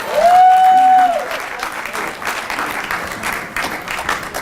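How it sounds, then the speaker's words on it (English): Audience applause for a sponsored guest at an evening show, a loud sustained wash of clapping across the whole stretch, with a brief whistle or cheer near the start before the clapping carries on. "So let's give a round of applause for Jack."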